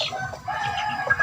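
Chickens cluck and murmur softly at close range, a brief burst of low, choppy calls.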